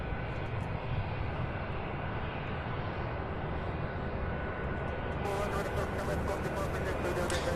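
A United Airbus A319 taxis at Louisville airport toward the end of the runway, a steady broad engine rumble and whine holding throughout at moderate distance, with a brighter hiss rising near the end.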